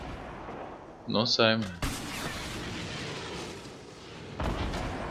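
Grenade launcher shots and blasts in a Fortnite match, a sharp burst followed by a loud, sustained boom and rumbling debris, with a second hit near the end, while players talk over it.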